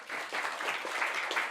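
Applause from an audience at a Hindi-language ISKCON talk, a steady dense patter of many hands clapping at moderate volume, with no voices rising above it.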